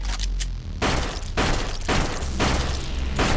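Gunfire in the Return to Rotwood video game: loud, heavy bursts of shots come in a steady rhythm of roughly four volleys, each a dense crackling boom, close and forceful with no speech over it.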